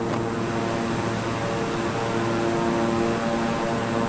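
A Beechcraft King Air turboprop cruises southwest of Cape Town in Microsoft Flight Simulator 2020. Its propellers and engines give a loud, constant droning hum with a steady tonal whine and no variation.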